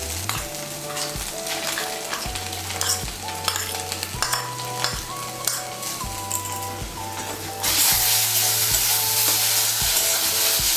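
Poppy seed paste stir-fried with egg and onion in a pan, giving a continuous sizzle with repeated scraping strokes. Steady music plays underneath, and the frying hiss grows louder toward the end.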